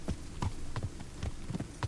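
Horse hooves clip-clop in a quick, even rhythm in the video game Kingdom Come: Deliverance, about half a dozen distinct thuds close by over a low background hum.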